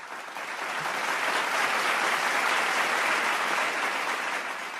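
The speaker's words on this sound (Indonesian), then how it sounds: "Boleh saya dengarkan sekali lagi tepuk tangannya?" An audience at a civil service launch event gives a sustained round of applause, loud and dense, swelling in the first second, holding steady, then easing slightly at the end.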